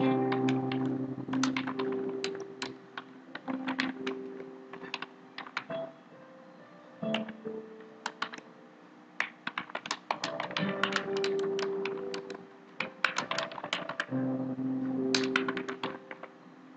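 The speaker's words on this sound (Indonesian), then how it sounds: "Langsung ketik aja koma atau enter bisa juga." Computer keyboard typing in rapid bursts of close, crisp key taps separated by short pauses, quiet overall with no one talking.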